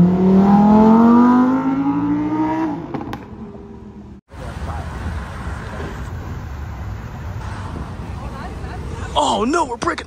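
A Lamborghini sports car revving loudly, its engine tone sweeping upward over the first few seconds before cutting off, followed by traffic and crowd noise with people talking nearby.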